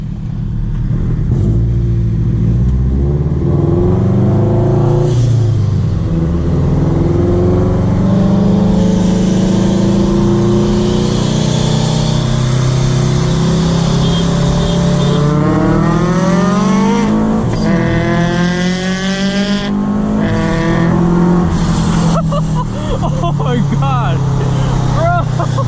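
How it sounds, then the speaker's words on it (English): Boosted Subaru FR-S engine roaring as it accelerates hard on a back road, pitch climbing through gears with brief shifts, loud and close from inside the cabin, a few voices briefly over it. "his car pulls so hard"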